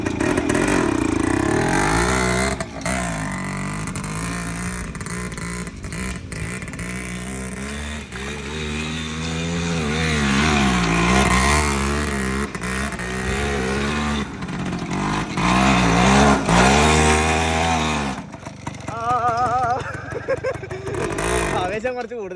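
An ATV engine revs hard and unevenly as it drifts across grass, its roar rising and falling up close in bursts, with people talking over it throughout.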